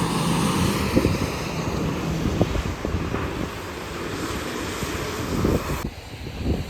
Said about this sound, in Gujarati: તો પવન કાઢે છે નક્કી નહીં વરસાદ આવે